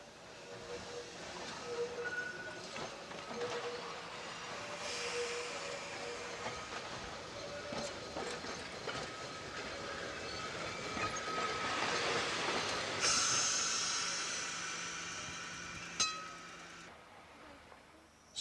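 A preserved electric tramway car runs along a seaside line past cliffs and countryside toward Laxey, giving a steady rolling rumble with faint clicks of the wheels and a sharp clank near the end.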